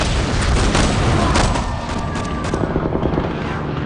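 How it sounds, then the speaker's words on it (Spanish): Loud, dense Vietnam War battle din: continuous rumbling explosions and bursts of gunfire merge into a near-deafening roar throughout, with no clear gaps. "El silbido de las balas, las bombas cayendo, la explosión de los proyectiles, la gente gritando."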